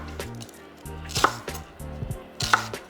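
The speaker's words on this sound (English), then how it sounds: "Now y'all know how to cut up an onion." Onion chopped with a knife on a cutting board, with a run of quick close taps, two sharper louder knocks among them, and faint low hum behind.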